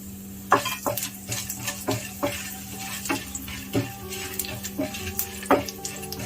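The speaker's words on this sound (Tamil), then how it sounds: "எல்லாமே நம்ம இதில் லோ ஃப்ளேமில் ரோஸ்ட் பண்ணி எடுத்துக்கலாம்." Cumin, pepper, cinnamon, cloves and fennel dry-roasting in a pan over a low flame, with light scraping and clinking from a stirring utensil at an irregular pace over a steady low hum.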